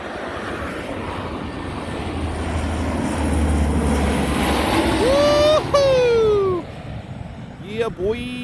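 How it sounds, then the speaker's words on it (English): A propeller-driven cargo plane passes overhead near a military air base, its engine drone swelling loud and close with a falling pitch as it flies by; brief voices and an animal-like squeal cut in near the end. "That was a number 5 cargo plane of some sort. It was a prop job, though."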